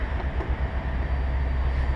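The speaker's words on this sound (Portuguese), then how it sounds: "O bonde vai aparecer lá." Tram rolling through Santos city centre, a steady low rumble of wheels on rail, continuous and fairly close, with no voices over it.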